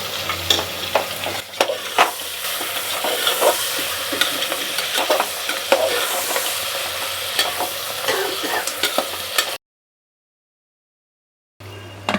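Mutton sizzles and fries in a hot pressure cooker while a spoon scrapes and stirs repeatedly, steady and close, then the sound cuts out briefly before resuming.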